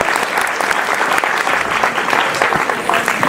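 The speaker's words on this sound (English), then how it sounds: "Let's give these two a round of applause just for coming out." A crowd claps steadily and loudly, sustained dense applause close by with no break, a short burst for two guests at an event.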